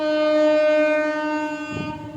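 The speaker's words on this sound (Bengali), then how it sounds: "ট্রেনের আওয়াজ স্টেশনে ট্রেন ঢুকছে" A train pulling into a station on a rainy day, heard from a nearby balcony as a loud, sustained horn-like tone that holds for about two seconds before fading, with a brief low rumble near the end.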